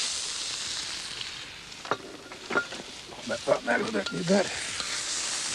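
Onion frying in hot oil in a wok at an outdoor cooking spot, a steady soft sizzle throughout with someone talking briefly over it.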